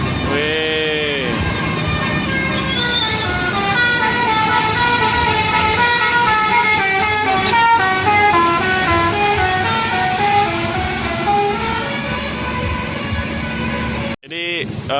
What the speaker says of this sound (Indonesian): bis-bis Sumatera ya yang baru masuk ke terminal harus masuk ke belakang ya